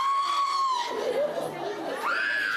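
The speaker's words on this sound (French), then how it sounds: "C'est la débandade et des cris de détresse chez les usagers des lieux." Crowd of people crying out and shouting in distress during a surprise police raid at Yamé-Roxy, loud and close, with high wavering wails rising and falling over continuous clamor.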